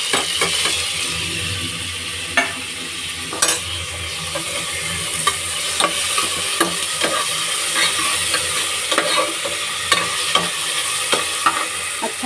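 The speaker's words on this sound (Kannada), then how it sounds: "ಇದು 3 ಟೊಮೊಟೊ ಹಾಕ್ತಾಯಿದ್ದೀನಿ ಇವಾಗ." Onions and tomatoes fry and sizzle in a pan, a steady hiss broken by scattered clicks and scrapes of stirring, close and alone without talk.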